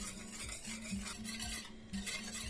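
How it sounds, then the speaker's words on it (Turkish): A spoon stirs chocolate sauce made with milk in a pot over the heat, giving a quiet, repeated scraping rhythm against the pot, close and soft, with no talk. "Sürekli karıştırarak çikolata sosumu pişireceğim."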